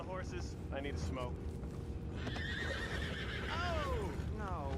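Horses in Red Dead Redemption 2 whinny several times while hooves clip-clop in the background, the neighs rising and falling over a steady low rumble, with a voice speaking near the start.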